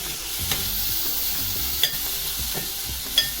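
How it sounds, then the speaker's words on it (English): Onion sauteing and being stirred in a pan on a hob for Indian home cooking, a steady soft sizzle with light scraping stirs and a few sharp clicks of the utensil against the pan. "So let's get the onion sauteed."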